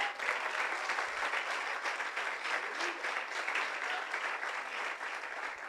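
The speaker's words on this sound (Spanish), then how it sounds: "denle palmas al Señor" Church congregation applauding together, a dense, steady wash of clapping hands that fills the space evenly with no pauses.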